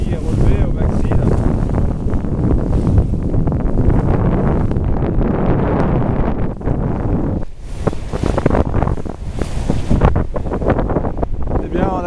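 Strong wind buffets the microphone while waves wash and slap against a heeled sailboat in about 15 knots of wind off Martinique, a loud, continuous roar with brief lulls.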